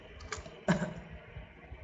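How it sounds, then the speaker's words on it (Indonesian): Quiet typing on a computer keyboard while writing code for a DHT11 temperature and humidity sensor: a few irregular soft key clicks with one firmer press, over a faint steady background. "Mungkin kalian nanti bisa mengetik seperti ini"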